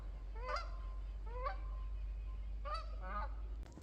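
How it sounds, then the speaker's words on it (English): Several geese honk in short, nasal calls, a pair of bursts spaced apart, then a quicker overlapping cluster, moderately distant over a steady low background hum. "Well, here's some geese."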